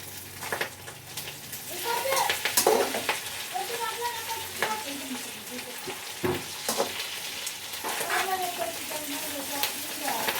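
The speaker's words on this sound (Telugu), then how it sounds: "కరివేపాకు కొంచెం నిదానం ఫ్రై అవుతుందండి" Curry leaves fry in a pan with a steady crackling sizzle and sharp pops, stirred now and then with a utensil clattering against the metal, while a person speaks intermittently over the cooking.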